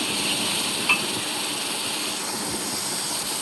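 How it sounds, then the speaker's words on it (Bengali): Malabar spinach fruits, soaked beforehand, sizzle in a cooking pan with a steady, even hiss and one brief clink partway through. "এখন পুঁইশাকের ফলগুলো সুন্দর করে রান্না করে নেব এবং ফলগুলো দিয়ে দিলাম।"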